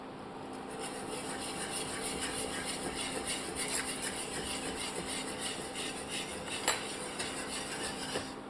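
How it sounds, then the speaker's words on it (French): A white roux is stirred into a pan sauce for veal escalope with lemon, making a steady scraping and rubbing of a utensil against the pan alongside a constant low sizzle. "On ajoute le roux blanc pour épaissir la sauce."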